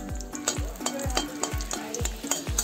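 Dried red chillies frying in hot oil with steady stirring: a low sizzle under repeated rhythmic scrapes of a spatula against the pan, close and clear, with no talking.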